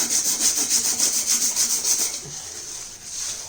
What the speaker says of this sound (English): Now we are going to clean the rotor again on the sandpaper.